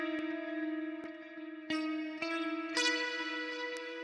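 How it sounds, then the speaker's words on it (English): A clean DI electric guitar, processed through reverb and delay, plays sustained ringing chords with sharp pick attacks every second or so, each note trailing into echoing tails. "it's like a DI, but processed and reverb and delay."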